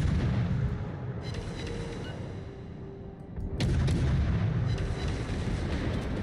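Warship cannons fire in the video game World of Warships, heavy booming artillery blasts with a sharp loud salvo midway followed by rolling rumble, over constant sea and engine noise.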